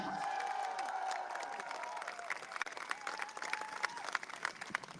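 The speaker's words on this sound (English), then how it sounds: "Please give a massive round of applause to Leanne Mohammed!" A large outdoor protest crowd in London applauds and cheers as a British Palestinian activist is introduced, a broad wash of clapping with shouts and whistles, voices rising and falling within the crowd noise.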